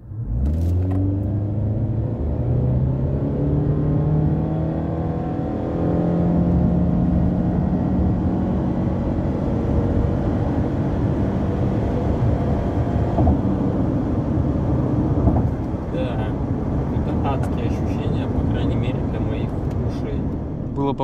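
A non-turbo Subaru Forester SJ5 accelerating hard from 0 to 100 km/h, its engine giving a strained roar that rises steadily in pitch through the gears, heard from inside the car with a voice speaking over it.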